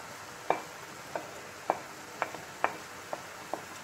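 Wild garlic is stirred into a sizzling pan with a utensil, producing a series of about eight regular scraping clicks over a low, steady frying hiss, close and without talk.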